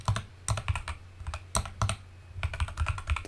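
Close-up typing on a computer keyboard, a steady run of crisp key clicks in short irregular bursts with brief pauses between, clear and alone with no talking.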